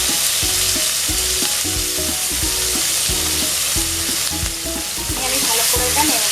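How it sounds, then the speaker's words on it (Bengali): Chopped onions frying in oil with bay leaves and whole garam masala spices, cooked for a pineapple prawn curry: continuous close sizzling with stirring, accompanied by a recurring tonal pattern, with no speech. "এবার এর মধ্যে আমি পেঁয়াজ কুচিগুলো দিয়ে দিচ্ছি।"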